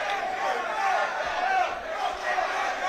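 A boxing crowd at the England Boxing national finals roaring around the ring, a dense, continuous wall of cheering and shouting that stays loud and close for the whole stretch.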